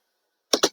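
Two quick clicks of typing on a computer keyboard, close and crisp, back to back after a moment of silence.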